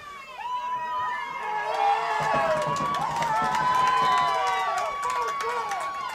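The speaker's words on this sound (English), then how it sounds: "met by a big cheer from the crowd here" A large crowd at a 2017 Thanksgiving high school football game against Lexington roars in a sustained cheer, with shouting voices layered through the whole stretch and loud throughout.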